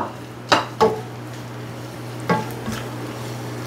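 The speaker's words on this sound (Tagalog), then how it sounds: "Haluin lang natin." A utensil scrapes and knocks in a pan of penne carbonara sauce with ham, three or four dull strokes spaced apart over a low steady background hum.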